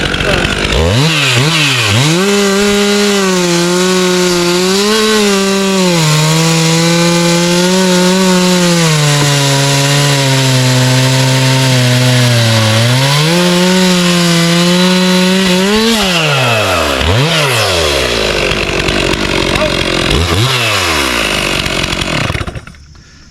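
A Stihl MS 362 C chainsaw cuts through a log, its engine loud and close with a steady high whine that sags under load. Near the end it drops toward idle with a few short revs.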